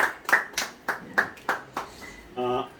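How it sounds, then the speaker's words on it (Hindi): Sparse, uneven hand claps from a small group at home, honouring visiting guests; about six separate claps close by, ending with a short held tone. "माता जी एक बार ताली बजा करके सम्मान कर दीजिए इन लोगों का"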